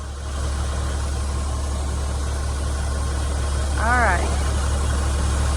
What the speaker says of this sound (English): Now Corey's gonna drive off, hopefully, and leave that thing behind.